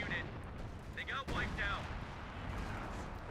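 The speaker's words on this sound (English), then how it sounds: "Oh, taking heavy hits on the way out with the artillery." Artillery barrage pounds units in Company of Heroes 2, a 4v4 match on the La Glieze map: a steady, heavy low rumble of shelling under continuous commentator talk.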